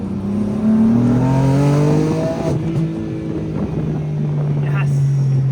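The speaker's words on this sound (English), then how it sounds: "Let's hear these turbos real quick." A BMW F82 M4 twin-turbo engine pulls hard along the Marin Headlands coast, its loud note rising steadily through the revs, then shifting and climbing again with wind rush over the cabin.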